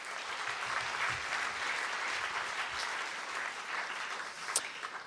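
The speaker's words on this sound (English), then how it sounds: "can we applaud their contribution to the French culture in the US?" Sustained applause from a gala dinner audience honoring contributions to French culture in the United States, a dense steady wash of many hands clapping at moderate distance for several seconds with one sharper clap near the end.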